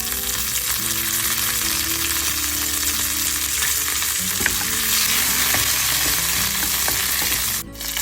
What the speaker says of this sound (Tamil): இப்போ கடுகு சேர்ப்போம் அதோட கொஞ்சம் பெருஞ்சீரகம் கருவேப்பிலை சேர்ப்பேன்